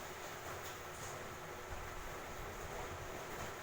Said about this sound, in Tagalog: makusugon talaga ng hangin sa luwas